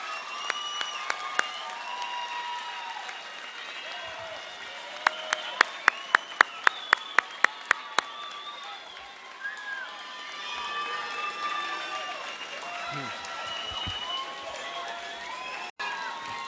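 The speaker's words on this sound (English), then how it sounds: "let's give them a round of applause for what they've done to make you so successful and graduate here today" A graduation ceremony audience applauds in a broad, sustained wash of clapping from a large crowd, with a few sharper claps standing out, heard at a moderate distance in a large hall.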